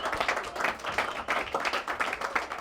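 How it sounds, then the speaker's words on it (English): An audience at an AI and data panel event claps for the panelists, a brief, dense burst of steady applause with no voices over it. "let's have a massive, huge, big round of applause for all of our panelists today"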